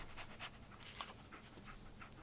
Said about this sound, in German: Dogmeat, schnüffel mal da dran.